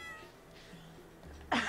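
A kitten meows once in Stardew Valley, a short bright cry near the end after quiet game ambience.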